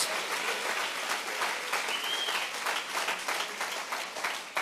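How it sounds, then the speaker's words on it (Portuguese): A church congregation applauds, with dense, continuous clapping for several seconds at a moderate distance and steady loudness. "Pode dar uma salva de palmas ao Senhor."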